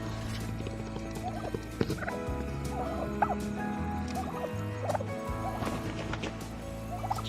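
A flock of turkeys gobbles in repeated bursts, several birds calling over one another at close range amid a busy, noisy farmyard background.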